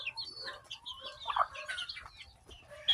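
Native chickens clucking close by in a farmyard, soft overlapping clucks and chirpy calls scattered over a few seconds with a low background hum and one sharper call near the end.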